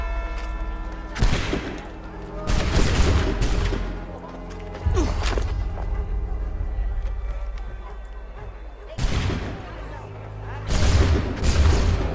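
Musket volleys in Assassin's Creed 3 ring out as several loud, booming blasts spaced a few seconds apart, with voices and battle ambience between them.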